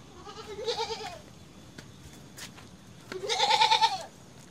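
A goat bleats as it is led out at a rural homestead in the forest, two loud wavering bleats about two seconds apart, the second one longer and stronger, with no talk over them.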